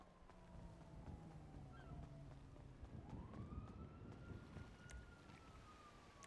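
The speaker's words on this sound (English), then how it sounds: "Is that EMS sirens?" EMS emergency vehicle sirens in the GTA role-play video game wail faintly in the distance, their slow rising and falling tones drifting over a rumbling background of wind and engine noise.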